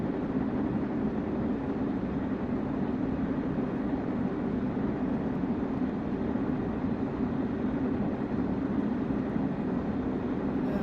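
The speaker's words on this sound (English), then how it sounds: "The train rocks and rolls through the points." A Class 700 electric train on the Brighton Main Line rumbles steadily over points in the Train Sim World 3 video game, a dense continuous roll heard from inside with no talking.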